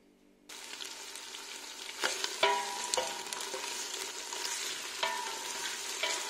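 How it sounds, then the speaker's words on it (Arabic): Tomato and onion fry in olive oil in a pot for chorba, giving a steady, close sizzle with a few sharp clinks from stirring. "je le fais revenir sur le feu, juste tomate et l'oignon et d'huile d'olive"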